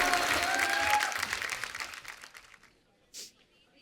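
Studio audience on The Kapil Sharma Show comedy program breaks into loud applause that fades out over about two and a half seconds, followed by a brief quiet gap and a short soft noise.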